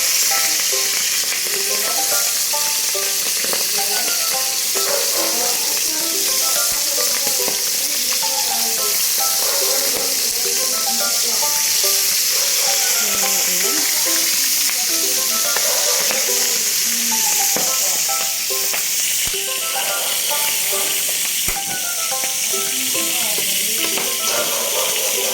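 Isdang tasik fish fries in a pan with a loud, continuous crackling sizzle and scattered pops and spatters, going on steadily without talk.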